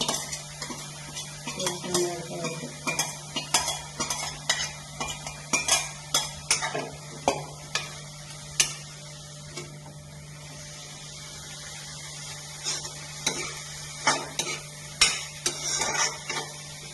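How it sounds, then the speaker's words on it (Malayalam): A spoon repeatedly scrapes and clacks in a pan while cooked lentils are stirred into spinach thoran, with a soft sizzle and a steady background hum under irregular close utensil knocks. "നമ്മളിതിലേക്ക് പരിപ്പ് ചേർത്ത് കൊടുക്കുകയാണ്."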